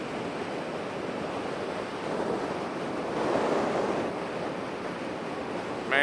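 Steady rushing wind roar buffeting the microphone while riding an electric Harley-Davidson LiveWire motorcycle on a freeway, a broad continuous hiss that swells slightly midway, with no motor noise and no talk.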